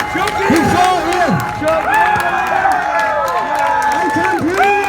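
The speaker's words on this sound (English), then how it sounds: "A round of applause for everybody!" A crowd in Dublin claps and cheers outdoors, steady applause mixed with raised voices and whoops rolling on throughout.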